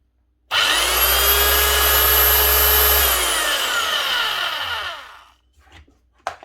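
A Hikoki H41MB2 rotary hammer drill with a fault that stops it hammering spins up and runs freely at high speed with no resistance for a few seconds, then winds down, followed by a couple of faint clicks.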